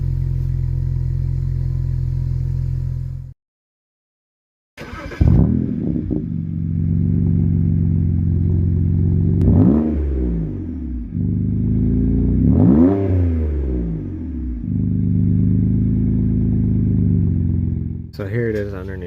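Stock-exhaust BMW 335i with the N54 engine, idling steadily with a deep low rumble, then blipped through several rising and falling revs before settling, heard up close and loud, with a brief cutout near the start.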